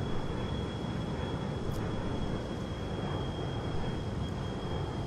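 A jet aircraft in Microsoft Flight Simulator gives a steady, broadband engine roar with a faint high whine, continuous and fairly loud throughout, with no talking.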